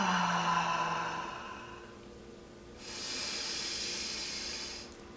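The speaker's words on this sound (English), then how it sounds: "The next sound we're going to try is the fa" A forceful breathing-exercise exhale shaped into a long, hissing "fa" sound, heard close and alone after a brief voiced tone.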